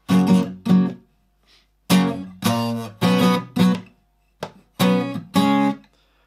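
Two bars of guitar power-chord rhythm with A5 and B5 shapes, loud chord stabs in short pairs and singles separated by brief silences, played alone.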